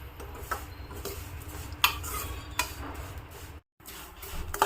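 Vermicelli roasting in ghee in a kadai, soft rustling and scraping as it is stirred, with occasional light metallic clinks of the spoon against the pan and a brief gap of silence near the end.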